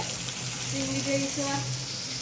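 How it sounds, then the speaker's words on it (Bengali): Steady crackling sizzle of koi fish (climbing perch) frying in oil, with a voice talking over it now and then. "মা কই মাছ ভাজছে"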